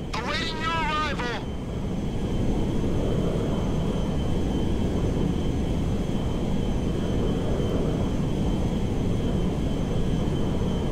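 A cargo jet's engine in the video game Grand Theft Auto V: a loud, continuous low roar, with a short burst of other game sound at the start.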